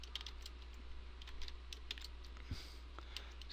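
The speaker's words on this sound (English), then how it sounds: "if I could type here" Quiet keystrokes on a computer keyboard in short irregular bursts of light clicks over a low steady hum, faint and close, with no talking.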